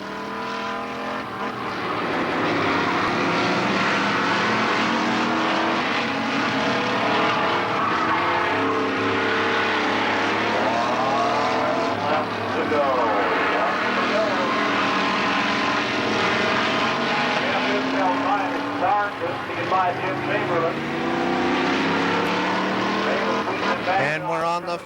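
Race cars roar around Kil Kare Speedway on the final lap of the last race of the 1994 season, a loud continuous engine drone with rising and falling pitch sweeps as cars pass, with a commentator talking over it.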